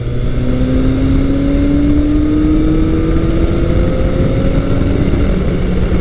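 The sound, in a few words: 1986 Yamaha FJ1200 motorcycle accelerating on test ride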